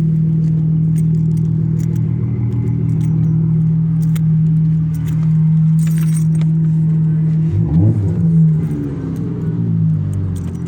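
A Dodge Charger sits idling after a cold start on a chilly, frosty morning, with a steady deep engine rumble, keys jangling, and a brief rev-like swell near the end.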